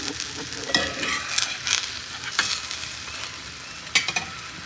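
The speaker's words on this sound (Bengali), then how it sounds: "সুজিটা আমি ঘি দিয়ে ভাজা করে নিচ্ছি" Semolina frying in ghee in a pan, with a soft steady sizzle broken by several sharp scraping stirs of a spoon against the pan, close up and with no voices.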